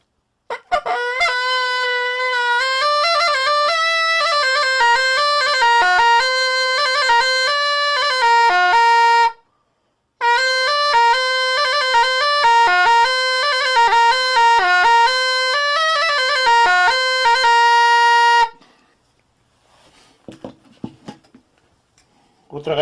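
A gaita gastoreña, a traditional shepherd's pipe with a goat-horn bell, plays two loud, reedy, sustained melodic phrases with a short break between them, then falls to near silence.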